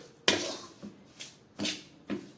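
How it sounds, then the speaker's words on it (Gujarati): Jaggery for sukhdi is stirred in a pan, a spoon striking and scraping the metal in four or five distinct knocks, close and fairly quiet, no voices. "ગોળને સારી રીતે મિક્સ કરી લેવાનો છે"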